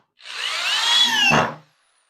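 A power drill drives a screw while a fingerboard skate park is being built. One rising whine lasts about a second and a half, close and loud, with a short grinding catch near the end and no talking.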